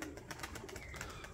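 A neighbor's pigeon coos on a rooftop, a soft low murmur partly masked by steady outdoor background noise, with faint chirpy sounds above it.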